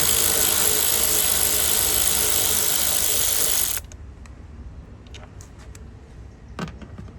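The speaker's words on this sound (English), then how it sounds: "I'm going to take this 10mm socket and unbolt bolt here" A 10mm socket ratchet works loose a headlight mounting bolt on a 2014-2016 Kia Sportage. A loud, steady mechanical whir fills the first half, then drops away to a quieter stretch with a few sharp close clicks and a brief clatter near the end.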